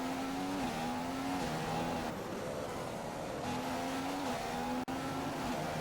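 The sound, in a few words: McLaren Honda F1 car racing in a video game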